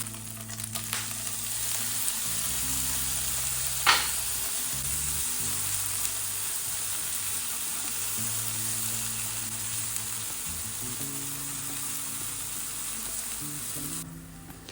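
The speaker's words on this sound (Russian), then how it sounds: "Выкладываем на сковородку и слегка обжариваем." Chopped chicken ham and tomato sizzle steadily in butter in a frying pan, a soft continuous crackle with occasional stirring scrapes and one brief clink, no talking.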